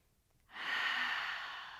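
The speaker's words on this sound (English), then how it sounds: "1 more deep breath in." A single long, deep inhale during a yoga vinyasa flow, starting after a brief quiet pause and swelling into a steady, close breathy rush that holds for over a second.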